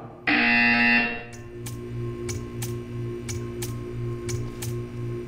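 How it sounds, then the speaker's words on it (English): A loud harsh buzzer in Portal 2 blares for about a second, then stops, followed by a series of sharp regular ticks over a low electronic hum. "You will hear a buzzer."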